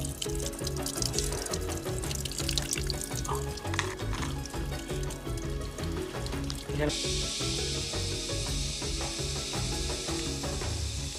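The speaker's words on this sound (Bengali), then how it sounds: "গুপ্ত ভীমাশঙ্করে ভোলে বাবার মাথায় সেই জল অভিষেক করাচ্ছি" Water is poured over a Shiva lingam at the Gupt Bhimashankar shrine, a continuous splashing, sizzling rush that turns brighter and hissier partway through, with voices chanting and talking alongside.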